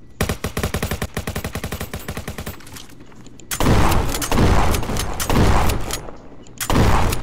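Rapid automatic gunfire in the Roblox game Jailbreak during a bank robbery, a dense burst of repeated shots followed by several loud sustained volleys of fire with brief gaps between them.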